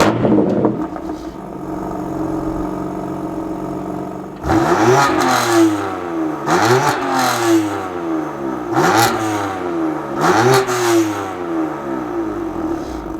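A BMW M4 CS with a DCT transmission in Sport Plus mode idles with a steady interior hum, then accelerates hard, its engine rising through several revs with a sharp drop at each quick gear shift, loud and close from inside the cabin.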